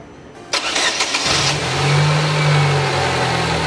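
A car engine cranks with a brief whirring starter, catches and settles into a loud, steady idle that swells slightly, close by with no talk.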